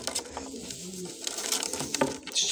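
A pink pigeon kept by a pigeon fancier coos softly among other birds, with a low purring call over light background pattering and rustling.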